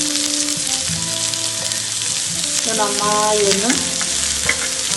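Three thinly sliced shallots frying in a pan for egg puff filling, a steady close sizzle with some stirring throughout, and a person speaking briefly over it.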